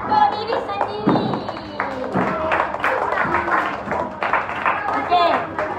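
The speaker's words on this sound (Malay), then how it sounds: "bagi tepukan untuk diri sendiri" Schoolchildren in a sling-bandaging first-aid class clap for themselves, scattered uneven claps close by mixed with a teacher's voice talking over them.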